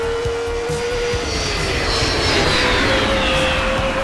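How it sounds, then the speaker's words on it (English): An airplane flies past in the racing game Northampton Grand Prix: a loud, steady engine roar fills the whole stretch, its pitch slowly sliding down, with no talking over it. "Passing in the plane where all the drivers come in."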